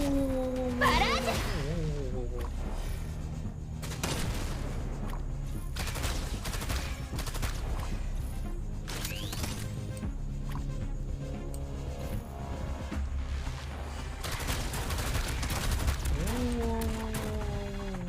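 Dense bursts of rapid gunfire fill a barrage in the Arknights video game, with rattling volleys and sharp impacts over a busy backdrop of music and effects, and voices talking briefly at the start and end.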